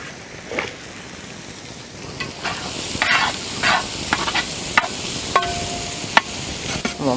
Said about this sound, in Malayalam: നമുക്ക് കുറച്ച് ഉള്ളി ഇട്ട് കൊടുക്കാം.